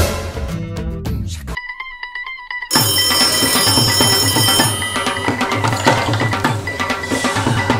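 A telephone rings with a short, bright, repeated electronic tone that stands alone in a brief gap between stretches of loud music.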